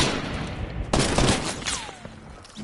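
Gunfire in an online shooter video game plays as a dense, loud burst of rapid shots with a fading tail, heard alone over steady background game noise.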